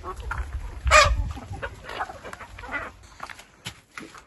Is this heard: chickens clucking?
yes